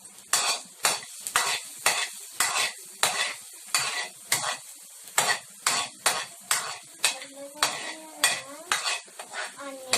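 Garlic sautéing in a pan, with a spoon or spatula scraping and clanking against the metal in a steady rhythm of roughly two strokes per second over a soft sizzle, close and moderately loud.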